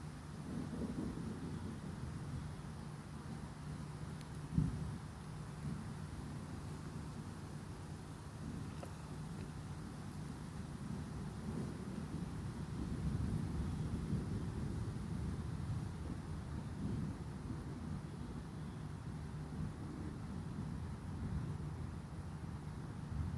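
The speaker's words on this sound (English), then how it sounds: "That seems to be the head of the storm passing by." Rumbling thunder from a big summer thunderstorm passing over Coram, New York, with a low, steady roar and a few soft thumps building and fading across the whole stretch, mixed with wind and distant rain.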